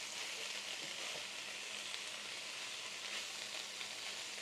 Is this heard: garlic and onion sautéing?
yes